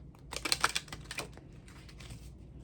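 A soft flurry of crisp papery riffling clicks, a quick burst of shuffled cards followed by lighter, quieter flicks, close by with no talking.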